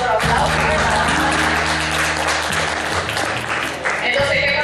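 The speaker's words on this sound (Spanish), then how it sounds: "eso me ha meritado otro aplauso" An audience applauds during a conversation with Dominicans at UNESCO: continuous clapping mixed with music and voices, steady and loud, briefly dipping near the end before resuming.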